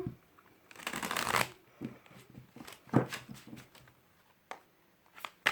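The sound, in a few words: shuffling tarot cards for a reading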